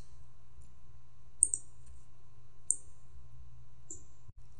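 Computer mouse clicks during network software configuration, three or four crisp isolated clicks spaced over a few seconds against a quiet low hum, with no speech.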